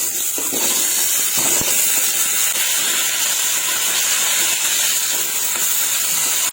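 Sliced potatoes, skin on, washed in salt and seasoned with salt and pepper, frying in hot oil: a loud, steady, hissing sizzle that runs unbroken throughout, with no voices.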